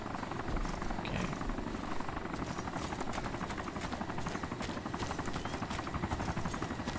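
A helicopter in the DayZ Overpoch game, its rotor chopping in a loud, steady rapid thud that fills the whole stretch with dense mechanical noise.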